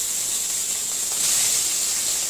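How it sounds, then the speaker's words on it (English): Fish pieces fry in hot oil, a steady close sizzling hiss that keeps going without pause and swells slightly toward the end. "So now I'll fry the fish pieces."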